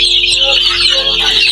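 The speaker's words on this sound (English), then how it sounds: "So guys, we are now counting the chicks." Young chicks on a Ugandan chicken farm chirp and cluck in a dense, continuous chorus, loud and close, with many overlapping high calls.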